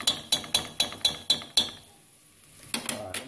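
A spoon stirring tomato sauce in a pan knocks against the metal in a quick, regular run of bright clinks, pauses briefly, then clinks a few more times, close and fairly loud with no talking.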